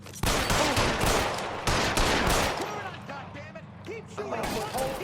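Rapid gunfire in an L.A. Noire shootout: loud bursts of shots and impacts at close range, thinning into sporadic cracks, with a voice shouting over the shooting.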